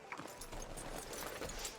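Horse hooves clip-clopping in the Red Dead Redemption 2 video game, a soft irregular patter of steps over a faint background bed, with no talk.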